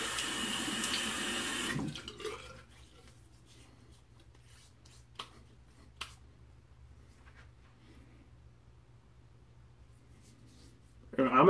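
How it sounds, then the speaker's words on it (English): Tap water runs steadily for about two seconds while someone rinses off, then stops, leaving a quiet room with a few faint knocks before a loud burst returns at the end. "Let me rinse off and see where I'm at real quick."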